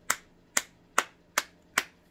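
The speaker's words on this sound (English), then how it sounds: "A hand clap for your generous gift." A hand clap repeats five times at an even, unhurried pace, each one crisp, close and sharp, with near silence between.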